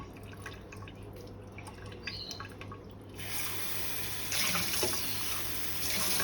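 Tap water runs and drips into a sink during washing, first a thin trickle with a steady hum beneath, then a louder, fuller stream that splashes on and off.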